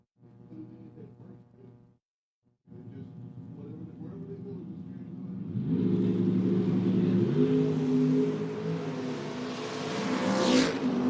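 Drag racing cars accelerate hard down the strip, a Mopar among them in the right lane; a steady engine drone builds into a louder, broader roar after a brief gap, with an announcer talking over it.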